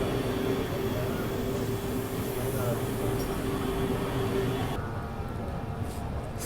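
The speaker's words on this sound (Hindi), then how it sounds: "हमारी मुलाकात हुई है वैक 12 लोकोमोटिव से" A train hauled by a WAG-12 electric locomotive runs near Kanpur on a cold day, giving a steady, loud rumble of rolling wheels with a sustained tone that drops away abruptly near the end.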